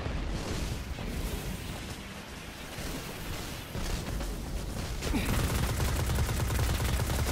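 Rapid gunfire from enemies in the video game Destiny, a dense, continuous volley of shots with explosive bursts that swells louder near the end, mixed with game noise.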